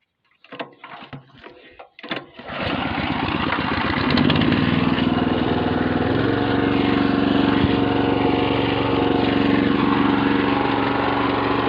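A branch chipper's engine revs up after a few sputtering catches, then holds a loud, steady high-rev roar with a strong low hum, running alone with no talk.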